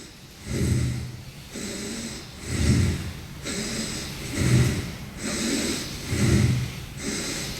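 Slow, deep breaths drawn into the chest during a seated breathing exercise, close and loud, with about seven audible inhale and exhale cycles following an even, rhythmic pace and no talking.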